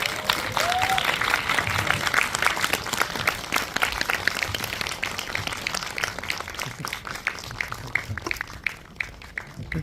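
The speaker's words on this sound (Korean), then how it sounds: "우레와 같은 박수 부탁드리겠습니다" A theatre audience at an independent film premiere applauds as the director and actors arrive, with loud, dense clapping that tapers into scattered claps near the end.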